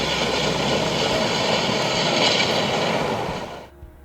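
Rocket liftoff at Kennedy Space Center, Florida: a loud, steady broadband roar that holds for several seconds, then falls away abruptly near the end, with no voices.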